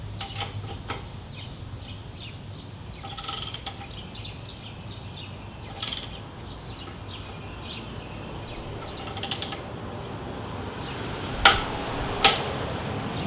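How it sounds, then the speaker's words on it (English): A torque wrench tightens a motorcycle horn bracket nut, giving a few quick ratcheting clicks with two sharper clicks near the end, set against a steady mechanical hum close by. "the final step is going to be to torque the horn bracket nut down"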